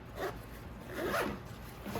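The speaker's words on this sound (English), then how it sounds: "Zipper's quieter on the Spiritus pouch." A zipper on a Wild Tactical Basilisk tactical fanny pack pouch is drawn open in a few short, quiet rasping pulls, close and soft.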